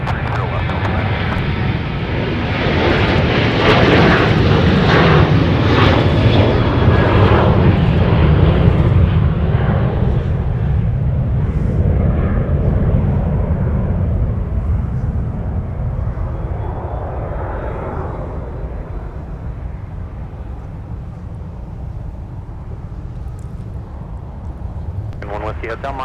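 A Delta heavy jet landing on runway 30 left at Minneapolis–St. Paul airport, a loud, sustained engine roar that swells early then slowly fades and lowers in pitch as the aircraft rolls out.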